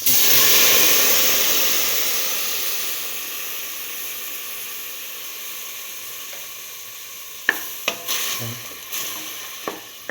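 Split chickpeas tipped into a hot pan of oil set off a loud sizzle that slowly dies down, then a spoon stirs them with several close scraping clinks and taps near the end.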